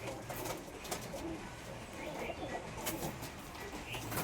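Soft, low cooing of Kamagar pigeons close by, repeated murmurs under faint background noise.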